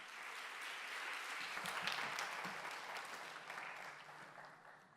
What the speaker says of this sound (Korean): 우리 목사님 나오실 때 우리 박수로 환영하도록 하겠습니다.